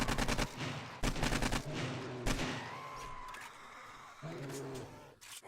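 Bursts of automatic gunfire in the game 7 Days to Die, loud rapid volleys repeating in several clusters as a player shoots at a bear, with brief pauses and game noise between.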